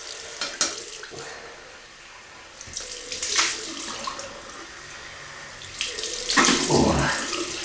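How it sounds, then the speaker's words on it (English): A bathroom tap runs for a cold-water rinse after shaving with a Merkur 1904 DE razor, water splashing in uneven bursts as hands scoop and rinse, loud surges between quieter trickles. "Cold water rinse."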